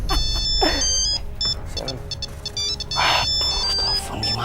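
A phone ringtone plays a repeating electronic melody of bright beeping tones, loud and close, continuing for several seconds over a low background hum.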